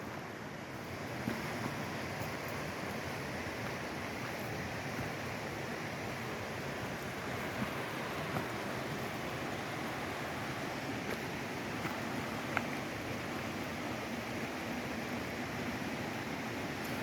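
Natural flowing water in the Smoky Mountains makes a steady, even rush of broadband noise. It goes on unbroken and faint throughout, with no voices over it.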